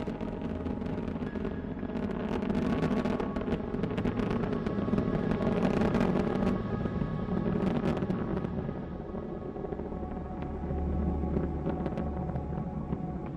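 Space Shuttle Endeavour's three engines during ascent, a broad distant rumbling roar with crackling texture that swells and eases, heard alone without talk.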